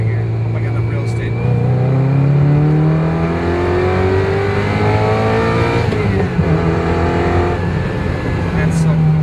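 A Ferrari 348tb pulling a second gear roll-on onto a highway, its engine note climbing steadily and loudly from inside the cabin, with someone talking over it.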